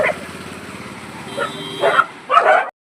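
A dog on a farm gives a few yips and whimpering barks, close and fairly loud, with people's voices faintly mixed in around it.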